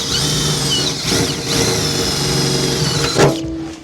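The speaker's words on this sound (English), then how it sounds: "the drill bit will pull through when you're drilling" A 10.5 mm drill bit bores through the steel tub of a GWM Cannon ute, a loud continuous high-pitched whine with grinding rises and a sharp surge near the end as the bit pulls through, then a lower hum.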